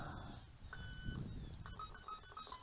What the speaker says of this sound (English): When it first powers up, you hear that little beep